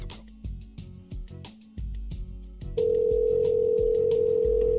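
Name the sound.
telephone ringing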